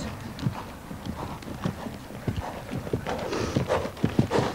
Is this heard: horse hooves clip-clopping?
yes